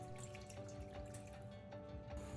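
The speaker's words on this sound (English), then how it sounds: "Add a little water, just enough to help the beans cook." Water is poured into a pot of frozen mung beans in a kitchen, a brief, quiet, steady splashing trickle with no talking.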